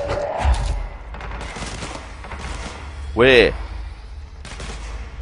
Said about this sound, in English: What the hell's shooting at me?